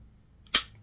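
A single sharp shot from a Glock 43X pistol at a shooting range, one loud crack with a brief decay after near-silence.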